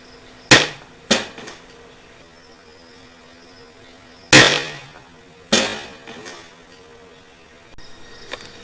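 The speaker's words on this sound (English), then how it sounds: "we're going to test the stabbing ability of this Mosin using the freshest of waters from Flint, Michigan" The spike bayonet of a Mosin Nagant M44 rifle is driven into a water-filled container, giving four loud, sharp close-range thumps at uneven intervals, each fading quickly into a quiet background.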